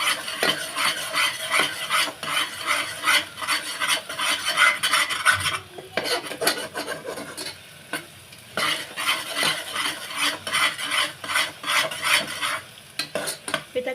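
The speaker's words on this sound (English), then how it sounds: "With a continuous mix, we need to fry all the spices." Spices frying in oil in a pan for a bitter gourd curry on a medium flame, stirred nonstop: a continuous close sizzle under rapid scraping strokes of the spoon, briefly easing around midway, with no talk.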